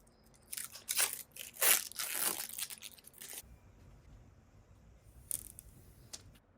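Protective plastic film being peeled off an RTX 4070 Ti Super graphics card, heard as close, bright crackling tears in bursts over the first few seconds, then a quieter pause and a couple of short crinkly rips near the end; no talking.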